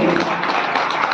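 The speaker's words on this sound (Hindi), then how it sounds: "पर जोरदार तालियां होने सभी के लिए।" An audience at a gurukul exercise demonstration of lathi, sword and mallakhamb claps vigorously, a dense, even burst of applause with no gaps.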